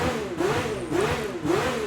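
Honda car engine in Gran Turismo 7 running through its startup sequence, a steady mid-pitched hum with the pitch rising and dipping in repeated revving swells, close and alone.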